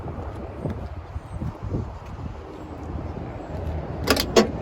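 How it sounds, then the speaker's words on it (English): Near the end, a couple of sharp clunks as the door of a Mazda RX-7 with homemade door cards is shut, following soft handling noises and faint rustling inside the car. "Let me shut the door and see what it looks like with the door shut from the inside."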